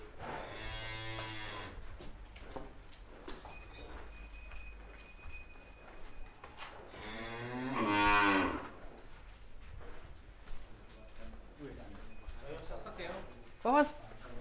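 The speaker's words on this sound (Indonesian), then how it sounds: "Ini dia sapi mirip wariso nih, Gandiwa" A giant cow lets out several long, loud, close moos spread across the stretch, with people talking around and between the calls.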